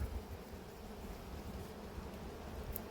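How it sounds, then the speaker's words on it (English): Honeybees buzzing steadily at an open apiary hive during an inspection, a close, continuous low drone of many wings with no voices over it. "There was a bee here pulling a dead drone out of the colony"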